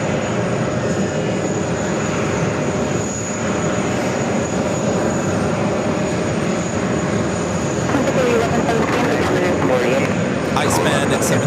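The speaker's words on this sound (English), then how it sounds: "that's the flight to Haneda that's banking on out of here" An airliner departing JFK on the flight to Haneda banks away overhead, a steady broad jet roar that holds for the whole stretch while voices talk faintly underneath.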